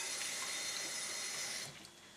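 Water is poured into a bowl of rice for microwave cooking, making a soft, steady rushing splash that tapers off near the end.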